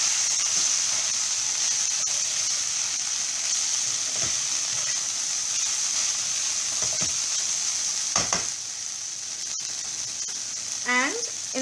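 Okra (bhendi) frying with coriander powder and spices in a pan, stirred with a steady hiss and a few scraping clicks of the spoon, the sizzle continuous throughout.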